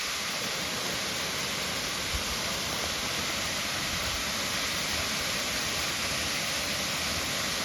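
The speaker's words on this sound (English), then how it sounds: "A narrow stream coming from top of the hill. It is rolling down in many steps and finally reaching ground" A narrow stream tumbles down the hillside in many steps at Slieve League in Donegal, a steady unbroken rush of falling water, even and constant throughout.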